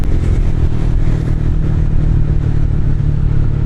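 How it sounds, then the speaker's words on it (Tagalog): Motorcycle with a loud open exhaust pipe revving hard, a dense continuous roaring engine drone at close range with rattling undertones, held loud throughout. "nagkarera para yung kalkal pipe"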